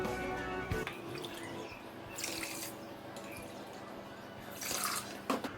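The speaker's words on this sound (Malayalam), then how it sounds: "ഇതുപോലെ ഒരു പാനിലേക്ക് ഇട്ട് കൊടുത്തിട്ട് 2 കപ്പ് വെള്ളം ഒഴിച്ചു കൊടുക്കും" Water is poured into a pan of sugar to make syrup, giving two short, faint splashing gushes over a quiet kitchen background, with a few small clinks in between.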